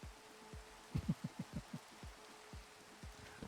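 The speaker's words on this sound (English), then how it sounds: "I guess I can't dispel this rain, so I'm going to have to deal with it." Minecraft rain falling in a video game, a soft steady patter under a series of low rhythmic thuds, with a quick burst of about six closely spaced knocks in the middle.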